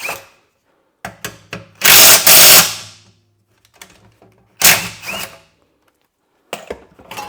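A power tool whirs in two short bursts as cover bolts come off a Briggs and Stratton lawn mower, with scattered metallic clicks and handling knocks between and after the bursts.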